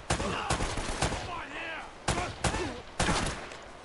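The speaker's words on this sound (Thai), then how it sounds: "ยิงแรง" Gunfire in the video game Uncharted: Drake's Fortune: sharp, loud pistol shots ring out in an irregular string of about seven bursts, with a faint voice under the action.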